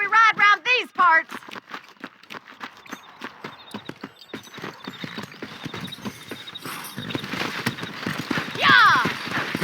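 Horse hooves clip-clop at a quick rhythm while riding in the western game Red Dead Redemption, opening with a loud whinny, the hoofbeats steady and close as voices talk over them and another neigh comes near the end.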